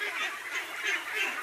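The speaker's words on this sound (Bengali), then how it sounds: "এই দেখেন অনেক হাঁস," A flock of Khaki Campbell ducks at a pond gives a steady stream of overlapping nasal quacks, fairly close and moderately loud, with no talking over it.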